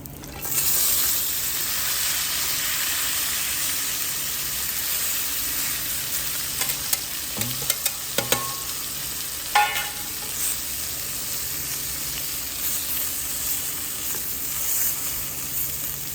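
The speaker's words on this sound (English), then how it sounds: "we're gonna go ahead and add all our rabbit back into the pan" Rabbit pieces and mushrooms frying in a pan make a steady, close sizzle throughout, with a few brief clinks of stirring partway through and no voices.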